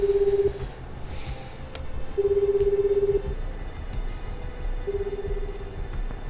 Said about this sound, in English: He dialed his number.